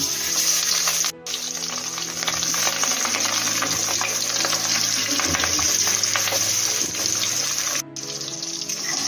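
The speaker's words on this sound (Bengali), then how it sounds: "মাছটা আমি সর্ষের তেলেই ভাজা করে নেব।" Rohu fish pieces frying in mustard oil in a wok give a loud, steady crackling sizzle that runs throughout, broken by two brief dropouts, with no talking.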